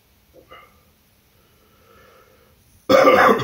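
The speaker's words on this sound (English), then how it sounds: "Coughing enough as it is right now." A person coughs while mixing Cajun cheese Cheetos into mac and cheese: after faint breathy noises, a sudden loud, close cough burst arrives near the end.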